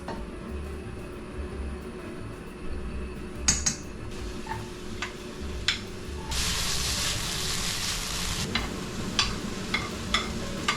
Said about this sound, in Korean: 올리브유를 좀 뿌려주고, 먼저 순서는 다진 마늘 넣고 양파를 넣고 볶다가